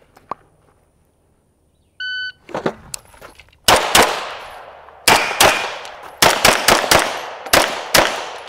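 Gunshots from a handgun ring out outdoors after a quiet start and a short electronic beep: one sharp report, a pause, then rapid strings of loud, closely spaced shots with echoing decays.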